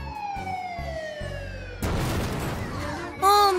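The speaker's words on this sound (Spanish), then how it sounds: "La ambulancia ya está aquí." An ambulance siren wails with a slowly falling pitch, then gives way to a loud burst of noise and a final bright warbling tone.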